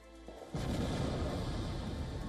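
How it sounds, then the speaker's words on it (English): Explosions from a massive drone and missile strike on Kyiv, with a quiet low rumble giving way to a sudden heavy boom that sustains as a broad, rolling roar lasting over a second. "The relentless attack triggered powerful explosions with flashes lighting up Ukraine's skyline."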